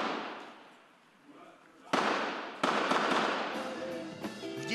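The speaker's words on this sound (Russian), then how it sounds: "На позиции военных прилетает подствольная граната, после чего завязывается короткая перестрелка." A short exchange of gunfire follows an underbarrel grenade at a military position: sharp, loud cracks break out after a fading rumble, then a dense, crackling burst of shots, with a voice faintly audible.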